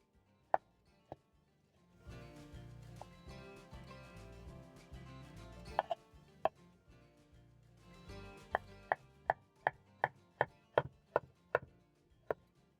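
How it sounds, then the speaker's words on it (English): A knife chops avocado on a cutting board in quick, even strokes, pausing while music plays in the background, then resuming with a steady run of crisp knocks. "I'm going to cut into strips and dice."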